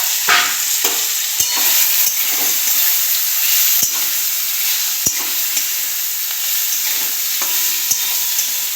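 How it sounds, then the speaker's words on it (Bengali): Boiled vegetable stalks, cooked with salt, sugar and turmeric, go into a ground mustard and chili paste, where they fry with a steady soft sizzle. A spatula scrapes and clacks against the pan in irregular strokes, close by, with no talking. "এবার আমি ডাঁটা সেদ্ধটা দিয়ে দিচ্ছি।"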